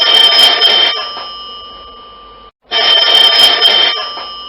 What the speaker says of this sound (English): This is the sound of a landline phone. This is how it rings.